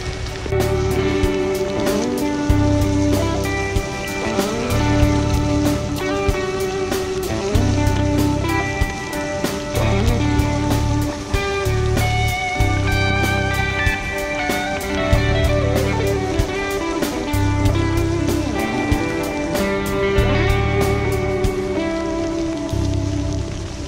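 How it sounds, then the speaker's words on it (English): Heavy rain falls steadily during a ride on a Lapierre E Crosshill electric gravel bike along the Taff Trail toward Cardiff, loud and constant, with a repeating low rumble and tonal whine from the bike underneath. "Can't believe it's still raining."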